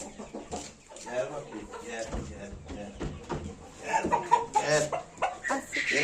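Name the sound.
roosters crowing and clucking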